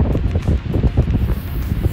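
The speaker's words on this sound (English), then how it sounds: "Super windy." Strong gusts of wind buffet the microphone outdoors near Cathedral Rock in Sedona, Arizona, producing a loud, rumbling low roar that rises and falls in rapid bursts.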